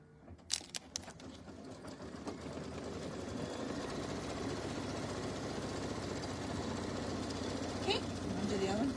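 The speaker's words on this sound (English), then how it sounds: "it's going to do a satin stitch on the peak of our" An embroidery machine stitches a satin stitch in a steady, fast mechanical whir that stays even throughout, after a few sharp clicks at the start.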